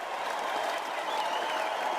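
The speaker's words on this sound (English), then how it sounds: "Enjoy the cheers, ladies." Residents of Montaigne Mansion applaud and cheer from their apartments while confetti is thrown, a dense, even wash of clapping and crowd noise that holds steady throughout.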